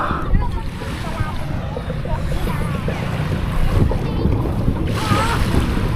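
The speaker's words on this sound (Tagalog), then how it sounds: "Ang dami niya mga bangka, no." Many boats on the water during a pagoda festival at Aroma Beach: a constant engine rumble mixed with waves and heavy wind buffeting the microphone, with faint voices in the background.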